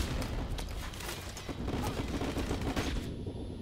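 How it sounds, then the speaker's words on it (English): Rapid weapon fire in the Modern Warfare Remastered campaign, dense bursts of loud automatic gunshots with booming reports, continuous and close. "that fucking sound of that weapon"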